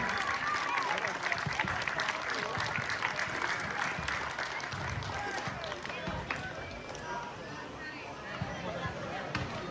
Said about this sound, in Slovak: Ešte jeden veľký potlesk pre najlepšieho strelca turnaja Svorák Sárovčík.